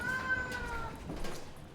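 A cat in a travel box at an airport animal-handling facility lets out a single drawn-out meow near the start, fairly faint against a steady low background hum.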